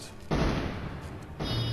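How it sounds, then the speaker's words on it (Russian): Two booming explosions in Kingdom Rush Vengeance, each a sudden broad blast that lingers, the second following about a second after the first, moderately loud. "Ага, взрываются."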